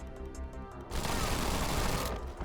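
Units open fire in the strategy game Zephon, a dense burst of gunfire and crashing impacts that swells into a continuous loud barrage after a quieter lead-in, with no talking.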